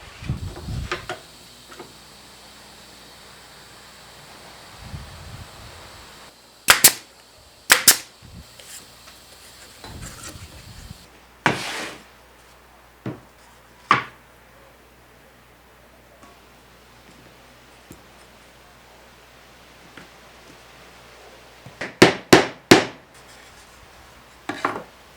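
Wooden drawers for a sander and sandpaper storage organizer are assembled, giving sharp, close knocks and taps that come singly and in quick clusters between long quiet stretches, with no talking.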